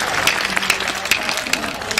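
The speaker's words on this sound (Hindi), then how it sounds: "ठोक दो एक बार ताली।" An audience gives a short burst of scattered applause, with individual claps standing out over a steady crowd patter.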